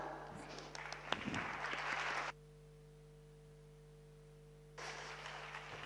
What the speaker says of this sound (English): please let's welcome with a warm applause Mark Sommer